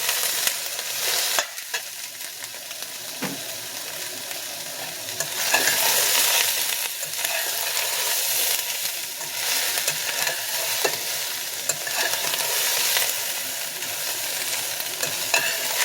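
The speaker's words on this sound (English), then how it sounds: "after the potatoes, we're going to add the browned yam that we prepared earlier" Browned yam pieces go into a pot of vegetarian curry, setting off a loud, steady sizzle of frying with occasional stirring scrapes, close and continuous throughout with no talk.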